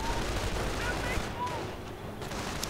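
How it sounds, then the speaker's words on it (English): Grenades and small-arms fire crackle in a World War II strategy video game battle, a dense spread of sharp pops and muffled bursts at moderate level, mixed with faint game effects and a talking voice. "Grenades going off."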